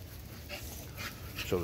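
American Bully dogs whimper and pant faintly on a rainy day, soft breathy puffs and a brief higher whine near the end, quiet and close with no clear speech.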